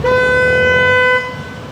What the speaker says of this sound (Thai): ทดสอบแตร